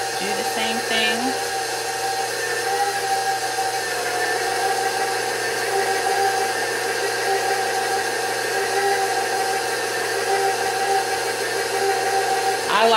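A KitchenAid stand mixer with a spaghetti and fettuccine pasta cutter attachment runs as a steady, close motor hum with a constant tonal whine, unbroken throughout.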